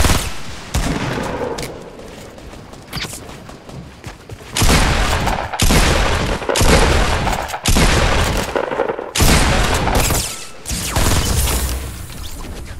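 Fortnite gunfire erupts in heavy, loud bursts of rapid automatic shots and booming blasts, separated by brief lulls, with dense crashing impacts close up.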